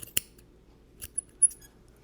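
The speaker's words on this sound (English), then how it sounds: "You can hear my squeaky scissors." Squeaky scissors snip through yarn loops while a pom-pom is trimmed: a few sharp, close, separate cuts with high squeaks, otherwise quiet.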